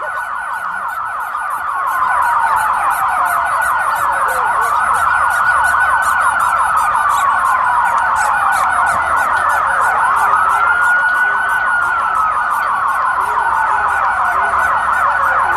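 Emergency vehicle sirens wail loud and piercing near a Seattle election-night scene, a steady rising-and-falling howl holding without pause, with a faint higher whistle pulsing above it.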